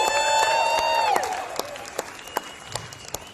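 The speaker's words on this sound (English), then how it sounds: "Can we give them a big round of applause, please?" Comedy club audience applause, a smooth crowd roar at first under a sustained whistle-like tone, then thinning to scattered individual claps.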